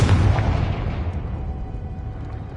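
A Confringo fire-blast spell explodes in the Hogwarts Legacy video game: one heavy, close boom that rolls off into a long fading rumble, heard alone with no voices.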